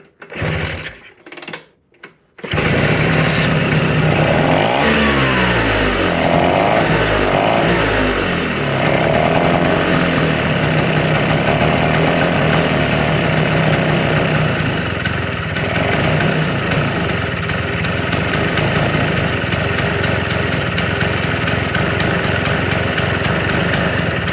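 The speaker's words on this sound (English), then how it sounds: "Pull the choke, give her a kick, or two." A 1979 Vespa P200E scooter with a rebuilt, previously seized engine catches after a few kicks and runs on at a loud, steady, buzzy two-stroke idle close by, with some shifts in pitch.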